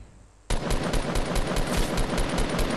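Rapid automatic gunfire in Fortnite bursts in loudly after a half-second of quiet, with a steady stream of close, rhythmic shots running to the end.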